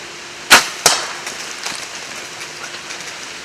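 Two sharp thwacks in quick succession, an arrow striking a mature eight-point buck deer, followed by faint rustling in an otherwise quiet outdoor setting.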